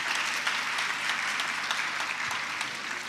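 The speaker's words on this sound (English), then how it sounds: "Let's clap for her," Steady applause from an audience at a fire-side chat event, dense and continuous throughout with no pauses or voices over it.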